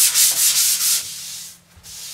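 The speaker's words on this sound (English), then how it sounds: "it would turn into a fine powder when you're sanding on it" Quick back-and-forth sanding strokes rasp over dried oil-based polyurethane finish, about five rhythmic passes close up, then a few softer rubs trailing off.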